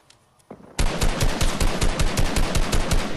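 Cover fire in Fortnite: after a quiet start, a loud, sustained burst of rapid automatic gunfire rattles on without a break until the end.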